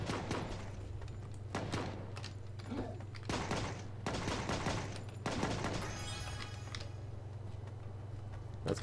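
Bursts of gunfire from the animal-versus-zombie mobile shooter Bad 2 Bad Extinction ring out in repeated volleys over a steady game hum, sharp and loud, with a short voice in between.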